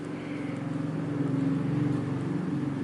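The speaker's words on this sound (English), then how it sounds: "Loud scooters, sorry." Loud motor scooters pass close by on a street in Thailand, a steady droning engine hum lasting the whole three seconds with no talk over it.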